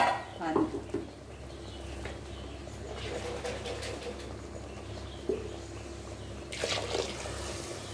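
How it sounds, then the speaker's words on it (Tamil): Water is poured into a village-style country chicken thin curry, rinsing in ground masala from a mixer jar. A light trickle and splash come with a few clinks over steady room noise. "இப்போ இதுக்கு தேவையான அளவு நான் தண்ணி ஊற்றுறேன்"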